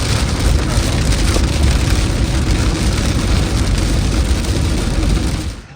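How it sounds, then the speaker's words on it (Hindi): Rain falls on a car driving on the road toward Amravati, a dense, loud, continuous hiss and patter mixed with road rumble that fades away at the very end. "रास्ते में भी थोड़ी बारिश लगी"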